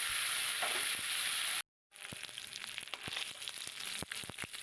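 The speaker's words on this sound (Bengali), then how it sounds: "একটু ভেঙে নিলে ভালো করে মাছটা ভাজা হবে" Loud hissing sizzle of a fish head, broken into pieces, frying in oil in a small pan, broken by a brief silence, then resuming with sharp crackles and scraping stirs.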